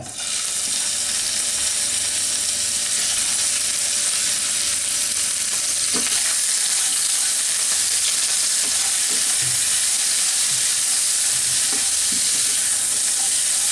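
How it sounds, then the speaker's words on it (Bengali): Prawns sizzle steadily in hot oil, a close, constant crackling hiss with a few scraping stirs and taps of a utensil. "ওগুলাকে আমি একটু ভেজে নিব"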